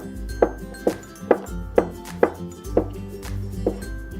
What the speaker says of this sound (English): I want to cut it into thin slices.